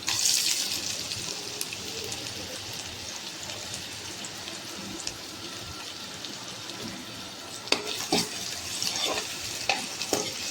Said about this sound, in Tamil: எண்ணெய் சுட்டதுக்கப்புறம் வெங்காயத்தை போட்டுலாம். வெங்காயம் நல்லா வதங்கட்டும்.